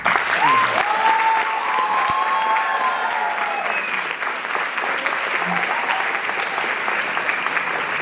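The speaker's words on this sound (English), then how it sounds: "The intensity of the applause at the start and after this answer remain the same" Loud, sustained applause from a large audience fills the whole stretch, with a brief whistle-like tone rising near the start.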